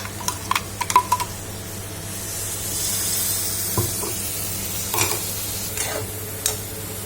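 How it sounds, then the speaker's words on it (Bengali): A spoon stirs beetroot pachadi spice paste in a pan, giving a few soft scraping clicks early on over a faint, steady sizzle, then quieter scattered scrapes later. "এবারে এটাকে ভালো করে নাড়বো।"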